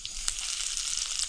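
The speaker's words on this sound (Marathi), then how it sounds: "जिऱ्याची फोडणी झाली की त्यात आता कढीपत्ता, लसूण ही सगळं टाकायचं मस्तपैकी" Cumin, curry leaves and garlic tempering in hot oil in a kadhai over a wood-fired stove, giving a steady close hiss and sizzle with a few brief spits, heard alone.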